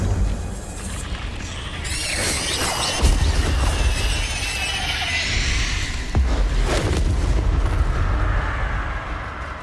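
A fiery blast from the Incendio spell in a Harry Potter video game, a loud roaring burst with crackling and whooshing that swells and lingers over several seconds, close and dense, with no voices.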